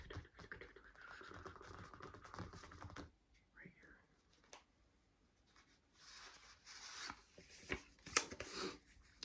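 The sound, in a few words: shuffling tarot cards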